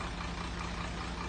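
A Howo dump truck idles with a steady, continuous low engine rumble and a constant hum, close and unbroken throughout, with no talking.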